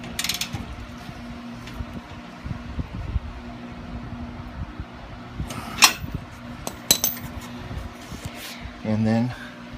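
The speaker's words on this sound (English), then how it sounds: "Tighten out the muffler clamp." Ratcheting and metallic clicks from tightening a 15 mm muffler clamp on a Chieftain exhaust, a few short bursts near the mic over a steady low hum, with talk running under the work.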